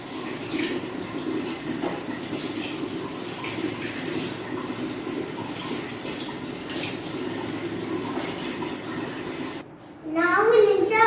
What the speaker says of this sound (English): Now first we rinse our mouth.